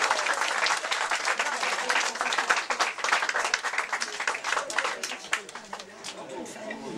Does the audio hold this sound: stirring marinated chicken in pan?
no